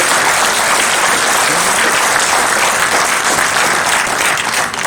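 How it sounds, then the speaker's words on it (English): A large convocation audience gives a warm, loud, sustained round of applause welcoming the chief guest, dense and even from start to finish. "let us extend a very warm welcome with a warm and loud round of applause for our Chief Guest"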